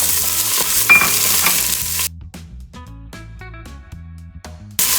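Garlic, ginger and jalapeno hit a hot pot of caramelized onions, crackling and sizzling loudly at first, then settling into quieter scattered pops and stirring clinks for a few seconds before a brief burst of sizzle returns.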